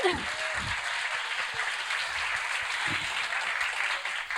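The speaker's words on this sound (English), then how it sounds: "Can we get a round of applause for her, please?" Audience applause at a museum cooking event welcoming a guest chef, a steady field of clapping from a modest crowd with a few louder nearby claps, holding level throughout.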